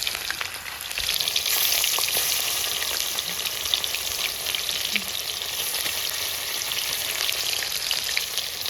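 Bata fish fries in hot oil with onion, a dense steady sizzle and crackle close up with occasional stirring clinks and no talking.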